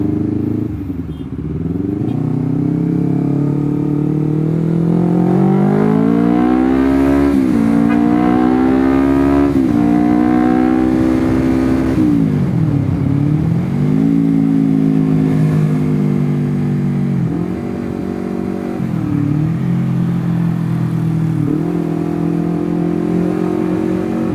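A motorcycle engine revs up and drops back repeatedly as gears are shifted up and down while riding, loud and close, the pitch climbing and falling in a steady cycle of swells.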